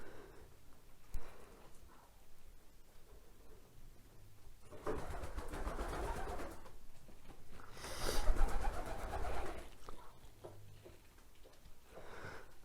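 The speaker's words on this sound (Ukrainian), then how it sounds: "що голуб, голубчик вон. Цей чорний, чубатий." A black crested pigeon coos in low, soft, repeated calls, spaced apart and fairly faint, with bursts of rustling noise in between.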